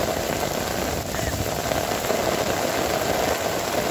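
Steady rain pours down during a rainstorm, a dense, continuous hiss with low rumbling underneath, loud and unbroken throughout.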